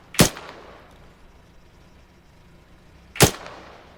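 Two sharp gunshots from a rifle in the military shooter game Arma 3, spaced about three seconds apart, each with a short ringing tail over a quiet background.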